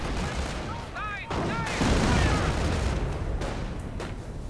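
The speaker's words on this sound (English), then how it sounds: "Heavy machine gun fire, not just from the MG42 but the LMG42." Heavy machine gun fire from MG42 and LMG42 guns in a World War II strategy video game, heard as dense, rattling bursts of gunfire mixed with booms and other battle noise, with a voice talking over parts of it.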